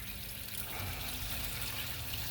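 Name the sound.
water-contaminated engine oil draining from a sunk truck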